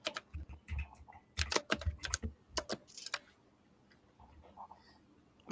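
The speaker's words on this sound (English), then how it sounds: "My keyboard is like typewriter style" Clacky typewriter-style computer keyboard typed in quick, irregular bursts of sharp keystrokes, fairly close, with pauses and quieter taps toward the end.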